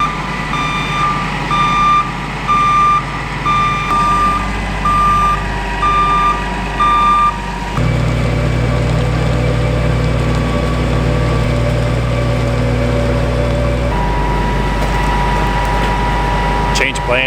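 A combine harvester being maneuvered while hitching to a header cart, its engine droning loudly with a repeating series of electronic reversing beeps for the first several seconds, then a steady mechanical hum and whine that shifts in pitch.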